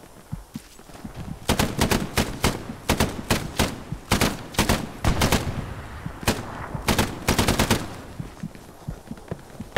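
Machine gun fire in the WWII shooter Hell Let Loose: repeated loud bursts of rapid automatic shots, some short, some sustained, with scattered single reports and rustling between them.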